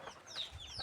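A backyard hen pecking at soil gives a few soft, short clucks nearby, faint and brief.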